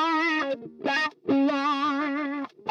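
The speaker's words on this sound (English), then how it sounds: "this late 60s wah, it sounds really warm, very vocal-like." Electric guitar through a late-1960s wah-wah pedal, warm and vocal-like, playing sustained distorted phrases in three bursts with sweeping tonal shifts, loud and alone.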